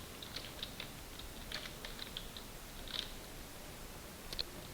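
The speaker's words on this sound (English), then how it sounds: "just push your buttons on your keyboard" Faint, quick keystrokes on a computer keyboard come in short irregular bursts of light clicks against a quiet background.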